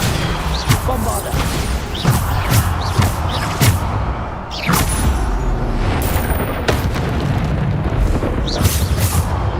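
Bombarda spell blasts in the video game Hogwarts Legacy, a run of loud booming explosions with sharp cracks over continuous combat noise, repeating every second or so throughout.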